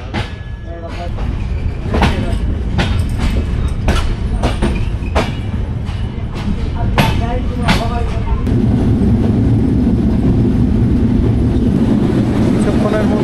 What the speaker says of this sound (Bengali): বিরামপুর থেকে আমাদের ট্রেন ছেড়ে গেল